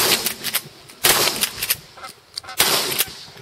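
Shotguns fire at Canada geese during an early-season goose hunt, with several sharp, loud blasts spaced over a few seconds against outdoor background noise.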